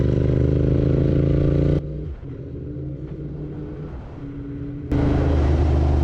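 A Royal Enfield Continental GT 650 motorcycle being ridden on the road, its loud engine droning steadily, easing back for a few seconds before surging again, heard close with wind rush.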